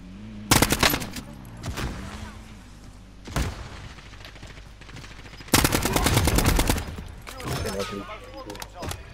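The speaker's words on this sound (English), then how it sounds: "Oh, someone's shooting at us." Gunfire in an online multiplayer shooter game aimed at the player: several loud, sharp bursts of rapid automatic fire, some close and some farther off, with quieter pauses between them.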